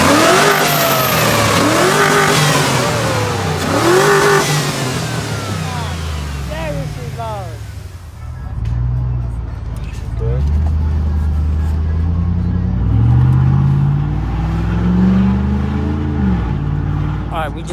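A Chevy Silverado engine fitted with a K&N air intake revs hard, its pitch sweeping up and falling back several times, then settles into lower, steadier revving; loud and close throughout.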